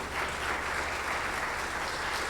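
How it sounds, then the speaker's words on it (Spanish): Steady, dense applause from a large church congregation, loud and continuous throughout with no voices standing out. "Dale un aplauso fuerte a ese hombre llamado Jesucristo"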